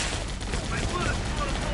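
Sustained enemy gunfire rattles through a combat flight sequence in Air Conflicts: Vietnam, a dense continuous barrage of shots mixed with engine and battle noise, steady and loud throughout.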